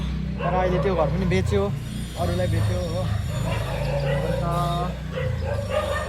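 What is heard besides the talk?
dog barking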